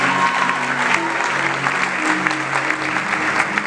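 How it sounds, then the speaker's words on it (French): Applause for honoured guests at a gathering, steady and dense clapping from a crowd throughout, with a faint murmur of voices underneath. "Merci, on les acclame très fort."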